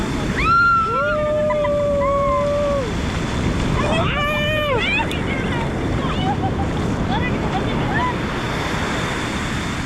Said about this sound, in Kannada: welcome to Someshwara beach